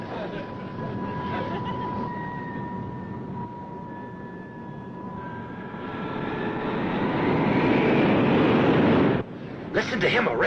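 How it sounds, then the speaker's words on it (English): An airplane engine drones steadily and loud throughout, rising in intensity toward the end, with voices talking over it. "Listen to him erasing that engine."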